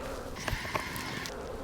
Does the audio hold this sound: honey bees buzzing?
yes